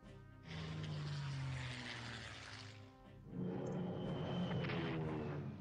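Aircraft engines drone in the Strategic Command WWII strategy game, two sustained propeller-like roars that swell and fade, playing on their own without talk.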